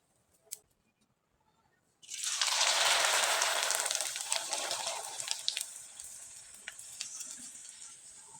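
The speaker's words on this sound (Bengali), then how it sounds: "তেলে দেবেন আর তুলে নেবেন। আর এই পিঠাগুলো কিন্তু তেলে দেওয়ার সাথে ফুলে একবারে ডবল হয়ে যায়" Rice flour pitha dropped into hot oil bursts into a loud, bright deep-frying sizzle after a small click, then settles into a steady crackling bubble that slowly eases, with nobody talking.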